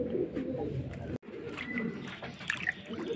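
Loft pigeons, including a mottled white-headed bird, coo and murmur close by, with a couple of brief brighter calls rising over a low, steady backdrop.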